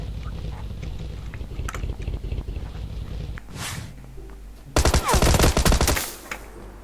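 PUBG Lite gunfire: scattered clicks and footsteps, then a loud, dense burst of automatic shots lasting about a second before it fades.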